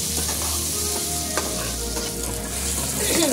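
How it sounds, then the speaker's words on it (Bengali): Onions frying in a pan with potato and green chilli give a steady, close sizzle and crackle, with occasional stirring scrapes and no one talking. "পেঁয়াজটা ভালো করে লাল লাল করে ভেজে নেব"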